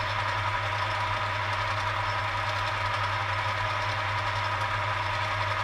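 A lathe machines the edge of a ring clip, a pipe-clamp piston ring compressor for a Willys Jeep engine rebuild, making a loud, steady mechanical drone throughout with no talking.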